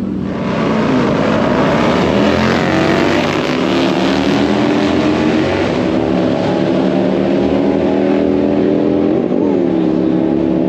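Two motorbikes rev loudly at close range, a steady, dense engine roar with rising and falling pitch that carries on throughout as they pull away on a Compton street.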